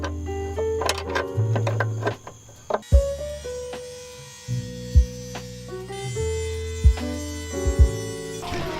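A Dremel rotary tool cuts into the bottom of car end links, its high whine starting and stopping in short bursts with pitch shifts, broken by sharp clanks of metal handling.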